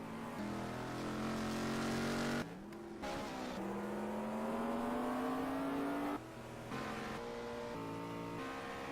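GT3 race car at Killarney with a steady high engine drone whose pitch climbs through the gears, two brief lifts off the throttle causing dips, and other cars faintly audible nearby; no voices.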